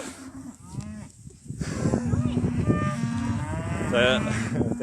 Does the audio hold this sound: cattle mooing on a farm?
yes